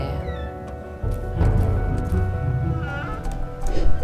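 Cat meows in the video game A Walk in the Dark, a few soft cries over steady game music and ambience, close and moderately loud.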